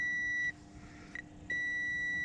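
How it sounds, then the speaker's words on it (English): Steady electronic beep from a multimeter continuity tester probing ground circuits on a 1995 BMW E36 M3, a sustained tone that stops for about a second, then resumes; quiet setting, no talking. "So now I'm going to check the grounds with the continuity tester."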